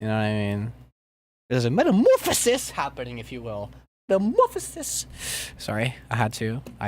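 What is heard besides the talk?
No everyday noises stand out.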